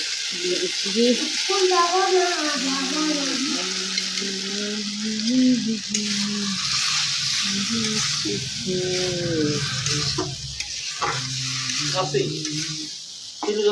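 Steady sizzling of spices frying in a pan for a breakfast dish, with a voice talking over it most of the time.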